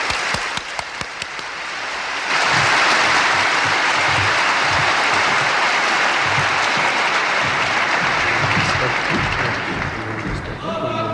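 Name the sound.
audience applauding guest Sheikh Ahmed Deedat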